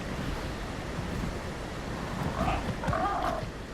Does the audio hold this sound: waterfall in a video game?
yes